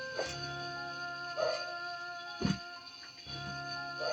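A dog barks and yips a few times at intervals, fairly close, over a steady electronic hum.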